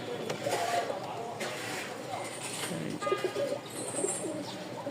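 Fancy pigeons with feathered feet, kept in a loft, coo softly and repeatedly at close range under a steady background hum, with a person talking over them.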